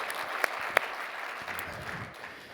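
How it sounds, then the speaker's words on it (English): Audience applause for a speaker at an Entrepreneur Organization business talk, a steady wash of clapping from a large crowd with a couple of sharper individual claps standing out near the start. "a big round of applause and thank you to Cameron for all the growth of 1-800-GOT-JUNK"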